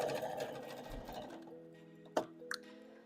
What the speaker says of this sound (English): so let's do some back stitching here.